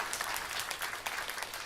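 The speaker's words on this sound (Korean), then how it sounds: "저희들이 또 환영하는 박수 하겠습니다" Brief, steady welcoming applause from a church congregation during a Sunday worship service, dense clapping throughout with no voices.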